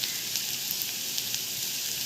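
A dense, even sizzle of onions frying in a pan, close and fairly loud with small crackles, no voices.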